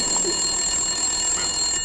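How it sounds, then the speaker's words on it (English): A telephone rings on the line after a four-digit number is dialed, giving a steady electronic ringing tone with sustained high pitches, moderately loud and heard alone without speech. "the 4 numbers I just dialed make your own phone ring"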